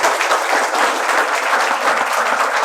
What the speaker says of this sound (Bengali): আমি তাদের থেকে একবার জোরে করতালি দিই আপনাদের জন্য